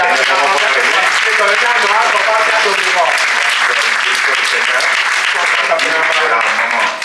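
A church congregation at a Sunday thanksgiving service applauds steadily, sustained clapping from many hands filling the room with a few voices mixed in.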